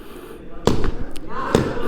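Paintball markers fire in a paintball match styled as a real-life battle game: two sharp, loud cracks about a second apart, with an echoing tail and faint background chatter.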